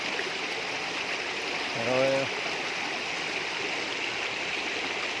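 Mountain river in the Sierra Madre flowing over rocks, a steady broadband rush of water throughout, with a short voice briefly heard over it.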